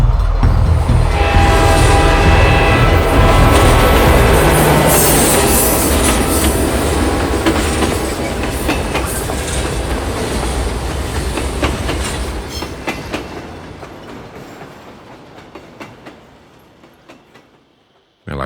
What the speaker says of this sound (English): The train was coming closer. I could hear its bell, its cry, its whistle crying.